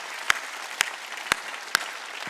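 Four loud, sharp hand claps spaced about half a second apart during a sermon at a Korean church service, each a distinct crack over a quiet background.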